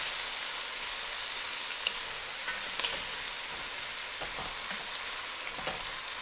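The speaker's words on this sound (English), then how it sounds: "so we're going to stir this all in." Garlic and brisket pieces stirred in a pot over steady sizzling, a continuous frying hiss with a few soft scrapes of a utensil, close and alone without talk.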